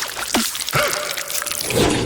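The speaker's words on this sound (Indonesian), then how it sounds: "Dan sekarang saatnya kita menambahkan sirup stroberi ke dalam kuenya. Biarkan dia mengalir turun seperti air terjun." Strawberry syrup pours onto a cake in a few soft liquid drips and trickles, close and fairly loud, with no talk.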